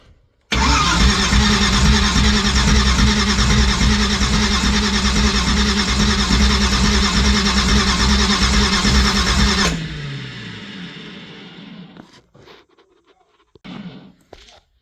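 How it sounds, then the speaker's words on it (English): A race car engine cranks over on the starter to build oil pressure, a loud steady churning drone lasting about nine seconds before winding down, followed by faint clicks and small knocks. "turn it over so I get fuel pressure up. Well, the oil pressure."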